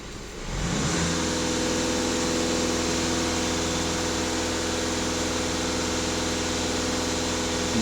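A VW Golf 2.0 TDI diesel with 300,000 km on it and a clogged particulate filter idles loudly and steadily after starting up, giving an even low rumble with a constant hum and no voices.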